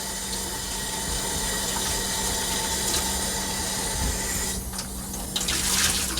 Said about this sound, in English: it'll all wipe right off under nice flowing water